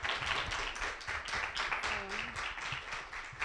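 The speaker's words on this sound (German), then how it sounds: "Also nochmal ein großer Applaus" A small audience claps after a performance at an outdoor culture event by a canal, the applause moderately faint and uneven, with scattered individual claps and a voice briefly heard under it.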